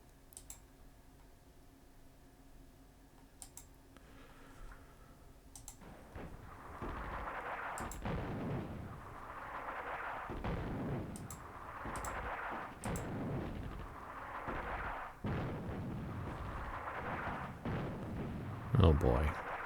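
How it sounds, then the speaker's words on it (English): Artillery fire in the PC war game Attack at Dawn: North Africa, a series of deep rumbling booms rolling in at a steady pace with sharp clicks scattered throughout, a voice talking underneath. "Let's hit them with artillery."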